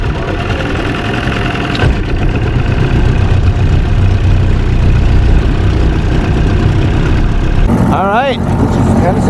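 A Johnson 35 outboard boat motor runs steadily on the water, its loud, even drone continuing throughout while someone speaks briefly over it.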